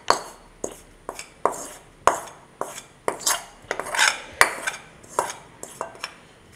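A spoon scrapes and clanks against a pot as masala is stirred into mango pickle, with a series of sharp, close metallic knocks at an uneven rhythm and no talking.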